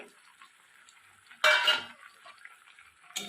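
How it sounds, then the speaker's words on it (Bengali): A spoon scrapes and clinks in a pan while chopped tomatoes are stirred into boiled cabbage, one loud scraping stir in the middle among faint clatter, and a short clink at the end. "দিয়ে ভালো করে আমি মিক্স করে নেবো"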